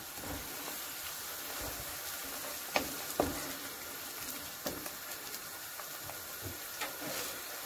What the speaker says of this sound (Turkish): Güzel mis gibi salçalarımızı böyle soteliyoruz.